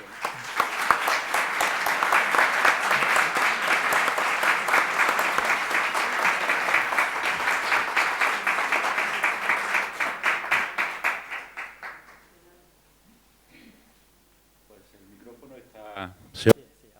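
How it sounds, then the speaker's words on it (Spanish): A crowd applauds steadily for about twelve seconds, then the clapping stops abruptly, leaving near silence and a brief thump. "Un aplauso."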